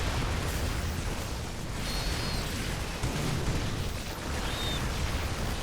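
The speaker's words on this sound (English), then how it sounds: "Tank shots are doing a lot of friendly fire damage right now." A dense, continuous barrage of siege tank shots in StarCraft II: Heart of the Swarm, booming over a battle with marines, loud and unbroken throughout.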